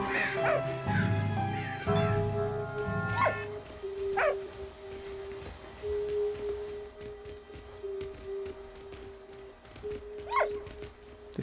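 A dog barks and yips repeatedly in the World War I video game Valiant Hearts: The Great War, sharp close barks over a sustained tonal musical background, with clip-clop sounds early on.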